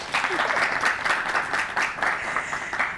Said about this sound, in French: Nébé Bolo, Inafo Korolinko, que je vous demande à acclamer s'il vous plaît.